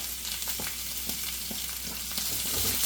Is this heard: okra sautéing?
yes